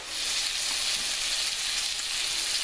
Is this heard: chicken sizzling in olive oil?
yes